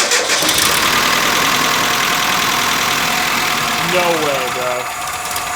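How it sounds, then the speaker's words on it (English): A Nissan D21 Hardbody pickup's engine cranks and catches, then runs loud and rough at close range throughout, with a man's brief exclamation near the end. "We're gonna crank on this thing and see what happens."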